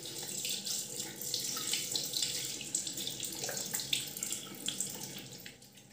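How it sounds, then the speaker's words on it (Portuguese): Tap water runs steadily from a bathroom faucet into a sink while a face is rinsed after applying cleansing oil, a close, continuous splashing hiss that fades slightly at the end. "agora eu vou enxaguar"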